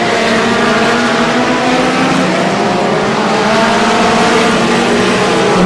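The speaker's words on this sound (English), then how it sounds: "Passing the car out there on turn 4, the lead driver coming through once again, 121 Lee Gunshard." BriSCA F2 stock cars roar past at a 1998 World Championship Final oval race, a loud, continuous blare of several engines at high revs that fills the whole stretch, with no talking over it.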